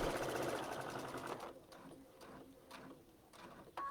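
A sewing machine stitches quilt binding in a rapid, steady mechanical whir for about a second and a half, then drops to quieter intermittent clicks and short bursts as the stitching slows and stops.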